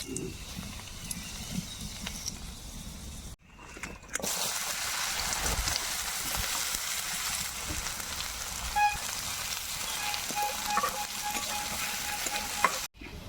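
Dried red chillies hit hot mustard oil in a wok and sizzle with a steady frying hiss. A few scrapes and clanks from stirring sound over it, and brief quiet gaps break the sizzle.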